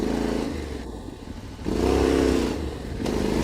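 A Yamaha Ténéré 700 engine rises and falls in close, loud revs during a slow donut attempt, the note dipping then surging again with a gritty mechanical clatter.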